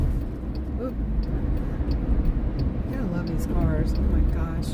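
Traffic passing on a city street outside a jail at night, a continuous low road rumble with vehicles going by under overlapping nearby voices.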